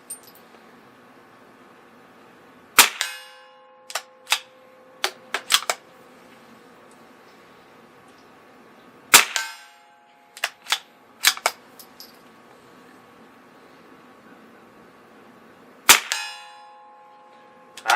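A CZ 457 .22 LR rifle fires at targets 100 yards away with iron sights, sharp isolated cracks in three clusters separated by quiet pauses, each shot followed by faint metallic ringing from the distant steel.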